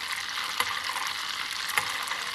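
Butter browns in a pan with a continuous, fairly loud bright sizzle and crackle, punctuated by two small pops, with no talking.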